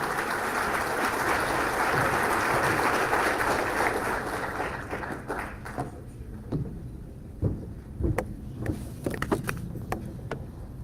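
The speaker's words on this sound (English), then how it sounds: "Let's give her another round of applause." Audience applause at the Guilford Family Justice Center 10th anniversary event honoring Kay Cashin, a dense sustained clapping that fades after several seconds into scattered taps and room shuffling.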